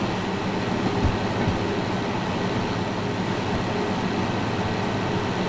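A DH4 diesel locomotive in Derail Valley hauls a heavy train of over 1000 tons under strain, giving a steady, dense rumbling drone with faint rail clatter and no voices.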